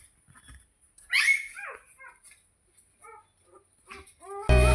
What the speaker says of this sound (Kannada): ನಾಯಿ ಮರಿಯಾಕಿದೆ, ಬರ್ರಿ ನೋಡವ